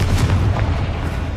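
A Bombarda spell blast in the game Hogwarts Legacy: one loud, deep booming explosion that rumbles on with a heavy low roar for over a second, no talking.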